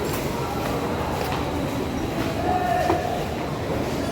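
Kolkata metro train running through an underground station, a continuous loud rumble of the carriages with a faint wheel squeal, heard on its own with no talking.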